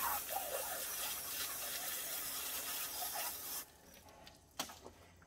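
Running water rinses a freshly field-dressed squirrel, a close, broad splashing hiss that stops partway through, followed by a few faint wet handling sounds.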